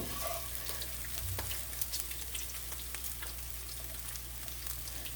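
Bacon fries in a pan with a dense, continuous sizzle and crackle, close and steady, with occasional sharper pops and no voices.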